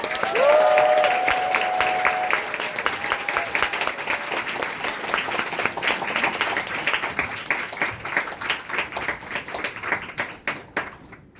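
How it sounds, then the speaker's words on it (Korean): An audience at a lecture applauds to welcome the speaker, a dense burst of clapping that starts strong and slowly thins out into scattered claps before stopping. "김진용 강사님을 모실 때 큰 박수 부탁드리겠습니다"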